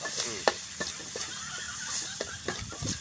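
Meat stir-fried in a hot pan for a spicy Thai dish of owl and crake, with close scraping strokes of a utensil at a steady pace over a constant oily sizzle.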